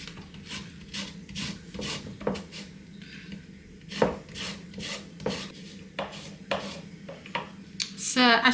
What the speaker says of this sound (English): So now we're just going to use the zest from this tangerine.